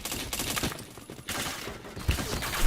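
Rapid bursts of gunfire from an online shooter game crackle in dense fusillades, loud and close, with brief gaps between volleys.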